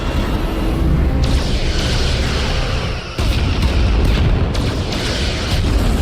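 Starship weapons fire and explosions in the Star Trek Resurgence video game, a dense, continuous roar of booming blasts with a brief dip midway before the barrage surges back at full loudness.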